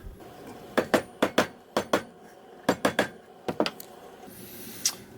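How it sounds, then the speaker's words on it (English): A rubber mallet taps wood in sharp, knocking taps in uneven clusters, some in quick pairs, ringing briefly against a quiet background. "I'm going to tap it with a rubber mallet"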